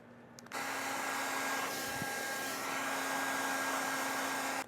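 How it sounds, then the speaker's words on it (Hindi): A heat gun blows hot air onto a plastic sheet during a Renault Triber modification, switching on with a steady, loud whooshing whine that holds evenly for several seconds before cutting off. "आपके पास ड्रायर या हीट गन ज़रूर होनी चाहिए कर्व्स देने के लिए।"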